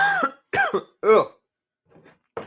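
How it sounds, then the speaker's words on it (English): Three harsh coughs in quick succession, close to the microphone, followed by a faint throat-clearing sound and another short cough. "Coughing over here."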